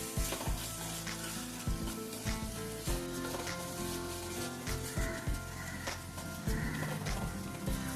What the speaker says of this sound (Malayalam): ഇതിലേക്ക് കുറച്ച് ഉപ്പൂടെ ചേർത്ത് നമുക്കിതൊന്ന് വഴറ്റിയെടുക്കാം